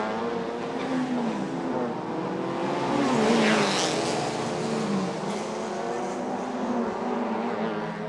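A race car in the Thailand Super Series at Bangsaen Street Circuit in Chonburi, smoking from its exhausts, with a loud engine note rising and falling through gear changes and a brief surge in the middle.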